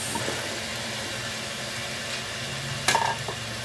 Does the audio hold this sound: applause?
no